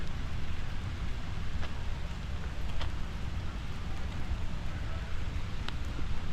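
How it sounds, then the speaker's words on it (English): Steady rain falls in Central Park, New York City, a constant broadband patter with faint scattered drips and occasional wind rumble, heard alone without talk. "this rain will not give in."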